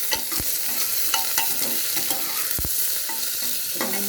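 Garlic and green chillies fry in a pan for Bengali red lentil khichuri, giving a steady broadband sizzle with scattered utensil scrapes and taps, close and continuous with no voices.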